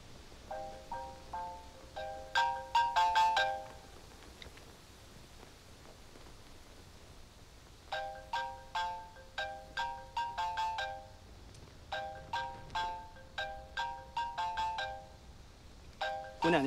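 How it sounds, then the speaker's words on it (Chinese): A mobile phone ringtone rings in repeated bursts of bright chiming tones, pausing briefly between rounds and starting again, moderately loud indoors with no talk over it. "您的电话能接了吧？"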